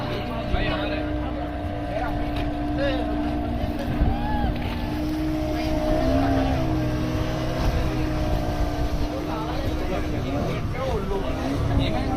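A motorboat engine drones steadily on the open water off Goa, a continuous rumble with wind and splashing, while people talk over it throughout.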